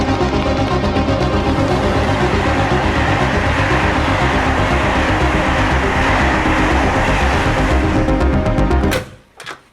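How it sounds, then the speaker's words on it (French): A train pulls away from a station platform, its loud, steady rumble and rhythmic wheel clatter continuous and close, then cutting off abruptly near the end. "Il y a un train qui va partir là."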